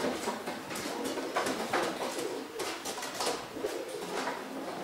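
Long-distance racing pigeons coo repeatedly at close range, soft throaty calls rising and falling over several seconds with faint rustling and small knocks in the background.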